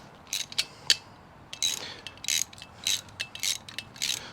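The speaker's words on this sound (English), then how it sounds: "Our ratchet here, and we're just going to take and snug these down like Legos." A hand ratchet clicks in short bursts while snugging bolts on a Jeep Gladiator rear bumper, with about eight quick, close, crisp ratcheting runs separated by brief pauses.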